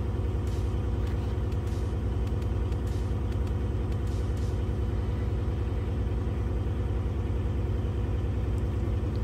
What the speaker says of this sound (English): we will hold our RPM at 1200 and wait for the pressure to come to 90 psi